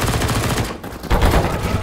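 Rapid automatic gunfire from the video game Counter-Strike, loud and dense, roaring almost continuously through the moment with a brief dip in the middle before the shooting resumes.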